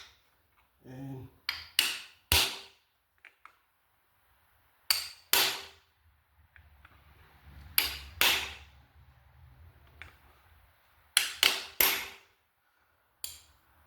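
A socket is hammered against a frost plug to drive it into an engine block, giving sharp metallic strikes in short bursts of two or three separated by pauses, close and loud with faint background noise.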